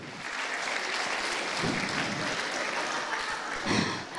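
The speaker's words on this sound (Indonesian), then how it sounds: "Panjang banget tepuk tangannya." An audience at a stand-up comedy show breaks into long, steady applause, a dense wash of clapping that carries on evenly with a couple of brief swells.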